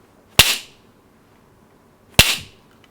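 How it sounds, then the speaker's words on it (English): Two sharp, dry cracks about two seconds apart from a wooden whip (slapstick) percussion instrument, each a crisp wooden slap with a short ringing tail, loud and close with silence between. "Or a whip Peitsche, which is wood, but it is supposed to sound really like a whip"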